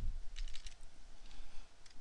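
Typing on a computer keyboard, quick light clusters of key clicks in a couple of short bursts, close and fairly quiet, alone without talk.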